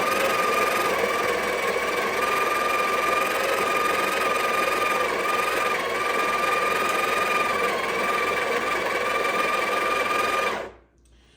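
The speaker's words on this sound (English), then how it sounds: "Now to grind, you can set this in place gently and then just push it in one time." A Breville Barista Pro's built-in grinder grinds coffee beans with a steady, loud motor whine that runs without a break for about ten seconds, then cuts off abruptly.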